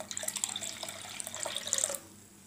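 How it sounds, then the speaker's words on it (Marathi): Water pours into a pot of ragda made with mint, coriander, ginger and green chilli, a close, gentle splashing stream lasting about two seconds before stopping. "आणि याच्यामध्ये अजून पाणी टाकू।"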